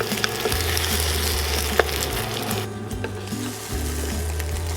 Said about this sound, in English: You guys can cook this as an omelet or you guys can scramble it.